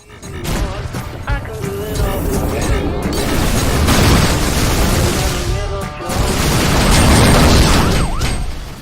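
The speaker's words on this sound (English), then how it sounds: "gonna switch it up and throw some torpedoes into the back of him and take him out." Torpedo explosions battering a gunship in the space combat game Rebel Galaxy Outlaw: loud, continuous booming and crashing blasts layered with mechanical noise, dense and roaring throughout, with a brief dip before the barrage surges again.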